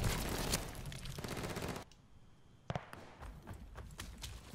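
A Lienna 57 LMG in Call of Duty Vanguard rattles off a sustained automatic burst, goes quiet for a moment, then fires a sharp shot followed by scattered quieter bursts, all fairly faint.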